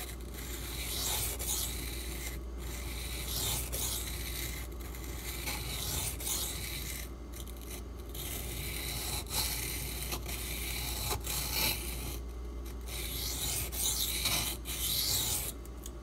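A thin D2 steel knife drawn repeatedly across a sharpening stone gives a continuous gritty rasp of steady back-and-forth strokes, close and fairly quiet, with no talking.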